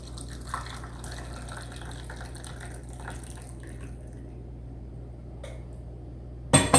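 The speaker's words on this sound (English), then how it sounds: "you're gonna put hot water" Hot water poured steadily into a container for a weight-loss drink, a faint continuous trickle throughout with a brief sharp clatter at the very end.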